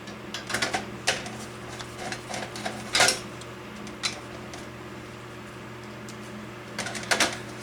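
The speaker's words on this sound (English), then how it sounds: "Get our screws back in." Screws are driven back into a 25-inch Hantarex Polo arcade monitor chassis, giving scattered small metallic clicks and taps over a steady electrical hum, faint and close, with pauses between bursts of activity.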